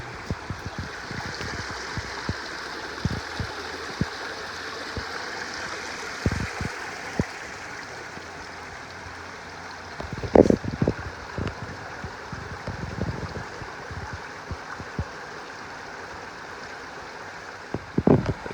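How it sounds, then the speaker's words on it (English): A mountain stream flows down a small series of cascades on a forested trail, giving a steady soft rush with scattered close knocks and footstep-like thumps over it. "The whole thing falls in a small series of cascades all the way down the mountain."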